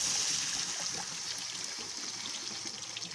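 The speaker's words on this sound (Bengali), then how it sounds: "এতে আমি জল দিয়ে দিচ্ছি পরিমাণ মতো।" Water poured into fish curry (macher patla jhol) while cooking, a steady splashing trickle that runs through the whole clip with no break.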